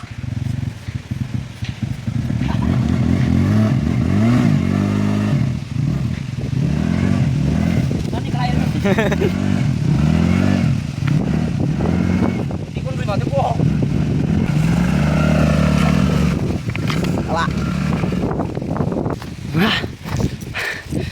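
A BMW motorcycle is ridden out of a river where friends are washing it, its engine revving and rising in pitch again and again, loud and near, with people talking over it.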